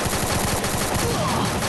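Rapid gunfire in the Free Fire video game, a dense, loud burst of automatic shots filling the whole moment, with voices faintly mixed underneath.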